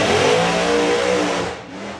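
A drag racing car at the STP Summer Nationals revs hard and accelerates down the strip, a loud, close engine roar with rising harmonics that holds steady before fading slightly at the end.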